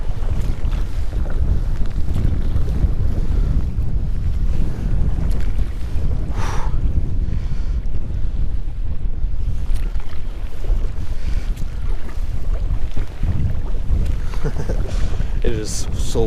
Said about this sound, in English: it is so windy. It's a good 20-mile-per-hour wind gusts